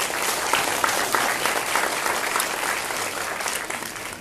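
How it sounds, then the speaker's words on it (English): A conference audience gives a round of applause for startup accelerators, dense, even clapping filling the hall throughout and fading slightly at the end. "So let's give them a round of applause for the accelerators."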